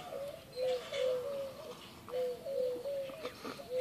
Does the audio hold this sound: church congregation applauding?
no